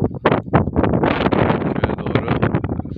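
Wind gusting outdoors in a village in Çüngüş, Diyarbakır, on a cold winter day, steady close buffeting rumble across the microphone with rising and falling gusts, no other sounds standing out.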